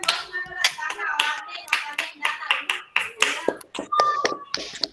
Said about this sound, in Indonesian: 3 kali tepuk pramuka.